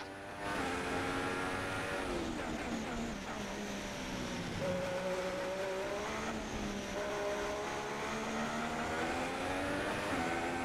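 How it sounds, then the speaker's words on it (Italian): A Formula 1 race car engine in the F1 2016 video game, racing at Shanghai, holds a loud continuous whine, its pitch sliding up and down through gear changes for the whole stretch. "Il motore dà qualche segno di cedimento."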